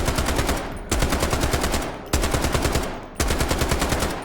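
A SCAR-H battle rifle fires in the shooter game Delta Force in four long fully automatic bursts, each a loud, rapid, even stream of shots separated by short gaps.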